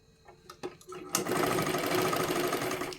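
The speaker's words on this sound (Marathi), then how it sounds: "अशा पद्धतीने फोल्ड करून आपल्याला इथे शिलाई मारायची आहे" A sewing machine runs a steady fast stitch along a folded seam of a katori blouse, starting after a few light clicks and handling sounds, then a continuous close whirring rattle to the end.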